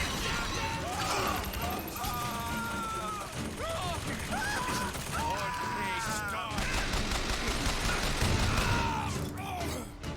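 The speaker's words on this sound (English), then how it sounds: "Fucking volley gun, man." Rapid volley gun fire in the BioShock Infinite video game, sustained bursts amid chaotic combat noise with whooshing effects and shouts, loud and continuous throughout.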